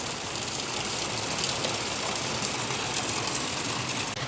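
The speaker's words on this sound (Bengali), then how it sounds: "আর বাইরে তুমুল বৃষ্টি" Heavy rain pours outside, a steady dense wash of hiss and patter that stays loud and even throughout with no voices.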